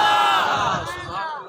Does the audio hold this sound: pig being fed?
no